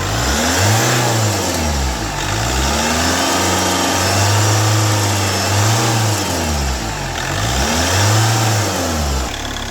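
Diesel engine of a Chevrolet Captiva revved repeatedly, several swelling rises and drops in pitch over a steady idle, loud and close with no speech.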